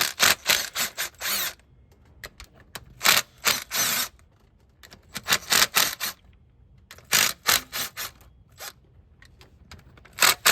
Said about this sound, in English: I'm gonna be using my Milwaukee with a 13 millimeter.